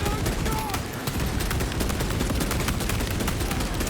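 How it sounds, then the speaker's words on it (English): Rapid gunfire from shooting enemies in the video game Space Marine 2, dense overlapping bursts of shots in a constant loud barrage. "I'm just shooting things, I guess."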